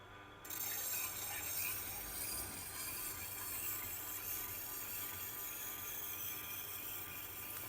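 A knife edge is honed on a Tormek sharpener's wheel loaded with chrome oxide compound, giving a faint, steady rubbing hiss that starts abruptly and continues evenly with no voices.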